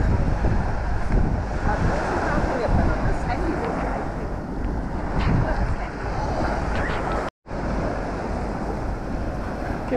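Strong wind buffeting the microphone over rolling surf on a popular island beach with palm trees, a steady roar of waves and gusts throughout, briefly cutting out near the end.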